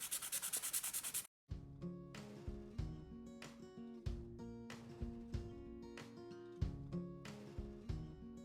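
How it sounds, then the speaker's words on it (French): A nail file shaping an acrylic or gel fingernail into a rounded almond form, a short burst of rapid raspy strokes followed by quieter intermittent scraping strokes, close and soft. "on va commencer à limer pour donner en fait cette forme arrondie à l'amande et que ça soit bien net"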